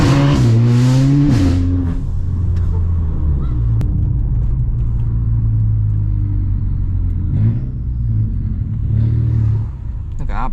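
Volkswagen Scirocco with a loud exhaust revs hard and accelerates close by, a deep rising engine roar that surges, settles into a steady drone and swells again near the end, with voices talking over it.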